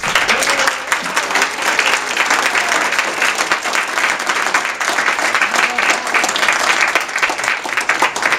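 An audience at a senior connections awards event applauds high school award recipients, a loud, sustained and dense patter of many hands clapping that continues evenly throughout with no talking.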